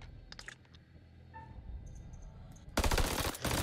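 Gunfire in the House of Ashes video game, a quiet tense stretch with faint clicks giving way to a sudden loud burst of rapid automatic shots near the end.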